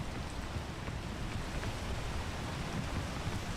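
Steady broadband rain hiss falls in the video game PEAK, a continuous wash of drops with a low rumbling undertone like wind or distant thunder, even and unbroken throughout.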